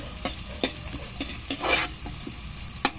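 Chopped onions sauté in a pan with garlic, a soft sizzle swelling briefly while a spatula taps and scrapes the pan in sharp, irregular clicks.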